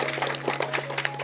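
A school competition crowd briefly applauds a student prize winner, a short burst of scattered clapping over a low steady hum.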